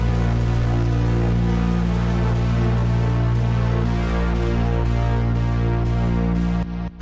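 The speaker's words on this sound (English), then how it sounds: "So I got like this little bass drone thing here. It sounds like this." A synth bass drone made in Logic Pro X, a loud sustained low tone with a faintly pulsing texture above it, holding steady for several seconds before cutting off abruptly, with no talk.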